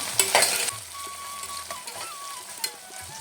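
Crushed ginger and garlic sautéing in a pan for coconut milk rice, a close sizzle with a spatula scraping and stirring, a clatter early on, then a softer hiss.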